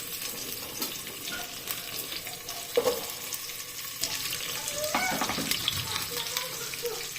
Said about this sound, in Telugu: కాజు వేగాక వెజిటేబుల్స్ వేసుకోవాలి.